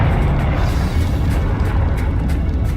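A Confringo blast spell explodes in Hogwarts Legacy, a loud, deep, rumbling boom that stays dense and heavy across a few seconds.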